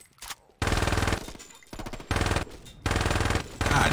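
Automatic gunfire in the Saints Row 2 video game comes in loud, rapid bursts of several shots, separated by short pauses, close and dominant.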